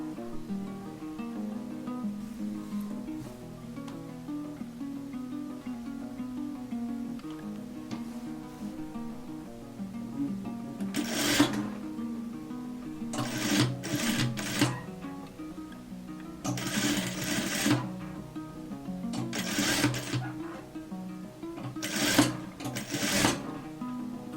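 A sewing machine stitches a raglan-sleeve coat in short, separate bursts of rapid whirring, close by and fairly quiet, with pauses and soft handling between runs.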